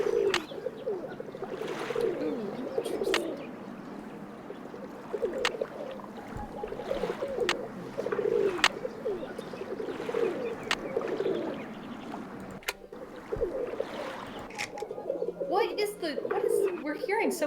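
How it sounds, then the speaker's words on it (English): Pigeons coo in repeated soft, rolling phrases in a Nancy Drew video game set in Paris, the calls recurring steadily over a quiet ambient backdrop with occasional sharp clicks. "Pigeons, mostly."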